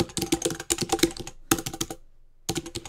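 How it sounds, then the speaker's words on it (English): Rapid bursts of computer keyboard typing, entering a web address into a footer section in an Open Office 4 Writer document, come in three quick clusters separated by short pauses, close and clear with no talking. "I'll hit the enter key"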